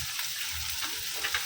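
Chopped onions and chillies frying in hot oil in a pan for a goat blood fry, a steady close crackling sizzle with small bursts throughout and no talking.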